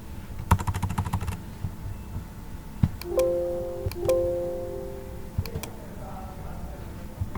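Computer keyboard typing while renaming a sheet in Microsoft Excel 2016: a quick burst of close key clicks, then scattered single taps with short pauses over a quiet room hum.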